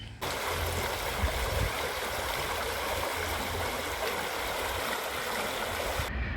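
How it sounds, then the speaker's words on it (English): Steady, continuous rush of a stream at the meeting point of Abberd Brook and the River Marden, loud and close, running unbroken with no voices. "here's the confluence, by the way, where they meet, the Arbet Brook and the River Marden"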